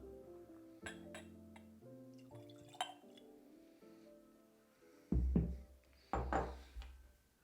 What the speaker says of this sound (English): let's add a few drops of water